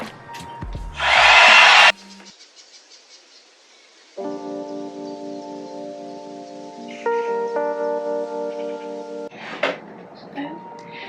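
A Plavogue all-in-one oval hair dryer switches on with a loud, close whirring blast for about a second, then cuts out, followed by quieter steady tones and handling noises.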